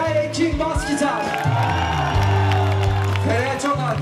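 A festival crowd at a university spring concert cheers, whoops and claps for the bass guitarist, rising over loud, steady band music with deep sustained bass notes and voices mixed into the noise.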